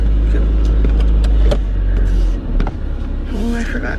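A car engine idles with a deep, steady low rumble close by, with faint brief clicks and sounds over it and a small shift partway through.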